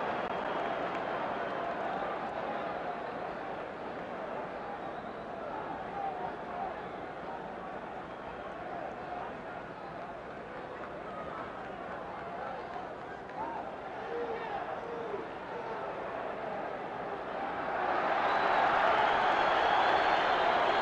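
A boxing arena crowd at the Floyd Patterson versus Oscar Bonavena fight roars and applauds in a steady wash of cheering and clapping, swelling louder near the end.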